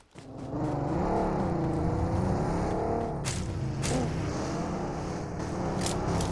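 A vehicle drives in a video game. Its steady engine hum holds at an even, loud level with slight rises and falls in pitch, and a few brief whooshes cut across it. No one speaks.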